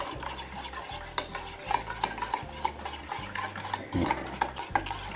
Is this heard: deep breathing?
no